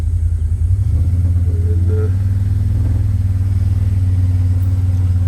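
A tractor engine runs steadily close by at a low, even idle on a farm during a feral pig hunt, with a heavy droning rumble that holds constant throughout.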